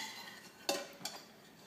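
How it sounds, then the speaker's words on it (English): Homemade chicken soup with carrots and celery is stirred in a pot, giving two quick utensil clinks against the side over a soft, steady kitchen hiss, quiet and close. "So we're gonna give it a good stir."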